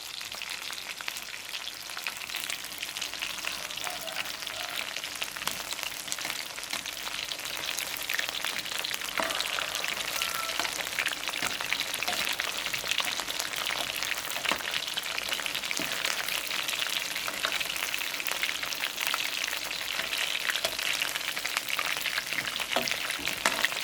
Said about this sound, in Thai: ทอดไก่ใส่ขนมปังด้วย